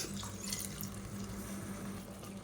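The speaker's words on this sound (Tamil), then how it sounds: "இப்போ மிக்சியை அலசிட்டு கொஞ்சமாக தண்ணி சேர்த்துக்கலாம்." Water splashes and runs as a mixer jar is rinsed and topped up, a close, steady stream with sloshing throughout.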